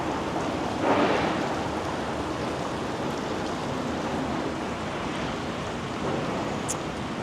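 Steady, dense torrential rain in Toronto roars continuously, a heavy wash of noise with a slightly louder surge near the start.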